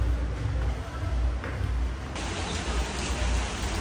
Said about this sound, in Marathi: पाऊस मला नाही वाटत गाईज थांबेल